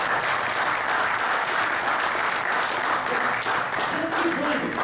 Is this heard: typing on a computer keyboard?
no